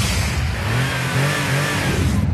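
A 2006 Ford Mustang GT's 4.6-litre, 300-horsepower V8 revs loudly and steadily on a race track, its deep throaty drone rising and holding across the whole stretch with no talk over it.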